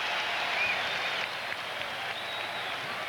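A basketball arena crowd at Madison Square Garden, Knicks hosting the Philadelphia 76ers, applauds in a steady, dense wash of clapping that stays even and moderately distant throughout.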